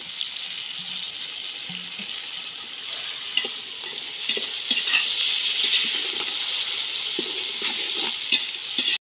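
Tomatoes sautéing with onions for village-style chicken biryani cooked outdoors in a forest, a steady loud sizzle with scattered scraping stir strokes, getting busier partway through and continuing without talk.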